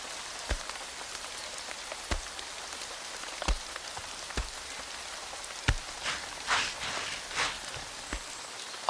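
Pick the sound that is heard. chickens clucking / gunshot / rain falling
rain falling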